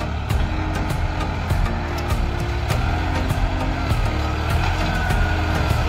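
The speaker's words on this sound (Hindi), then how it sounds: "ये राज चलाते हुए ट्रैक्टर," Tractor engine running outdoors, a loud continuous low diesel chug with steady rumble and repeated sharp knocks or clatters over it throughout.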